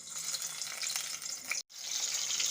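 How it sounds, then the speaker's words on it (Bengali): Brinjal pieces fry in hot mustard oil in a wok, giving a close, steady sizzle with light stirring and a brief break near the end. "এখন আমি এই বেগুনগুলো একটু ভাজা ভাজা করে নেব।"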